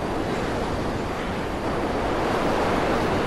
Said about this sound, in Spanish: Mira cómo rozo el agua.